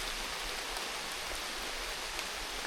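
Steady rain falls in a dense, even hiss, close and fairly loud throughout, with no voices over it.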